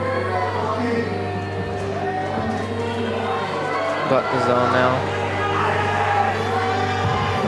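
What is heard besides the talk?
crowd cheering at climbing competition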